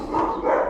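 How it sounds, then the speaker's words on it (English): Dogs bark in the background during tile laying, a short burst of muffled, mid-range barking that rises and falls over under a second, with no one talking. "excuse the dogs"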